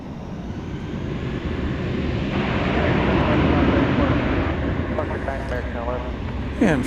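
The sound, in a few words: airliner taking off, flight to San Diego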